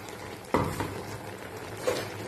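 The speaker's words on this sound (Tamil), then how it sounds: "சேர்த்து நல்லா ஒரு கிண்டி விட்டுங்க" Spoon stirring ground shallot paste into a drumstick and potato curry in a pan, a couple of soft scrapes and clinks over a low simmering sizzle, close and quiet.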